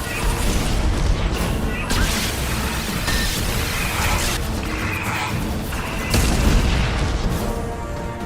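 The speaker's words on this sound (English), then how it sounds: "Firing anti-ship batteries at collector vessel." Mass Effect Legendary Edition anti-ship batteries pound a Collector vessel: a dense, continuous roar of heavy booms and crashing blasts, loud and sustained with brief swells, and faint voice traces underneath.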